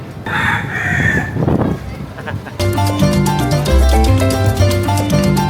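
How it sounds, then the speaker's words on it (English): A rooster crows loudly and close by at a ferry landing in Vieques, Puerto Rico, with background chatter, then music with a steady beat takes over. "Right as you get off the ferry, you're greeted by the rooster."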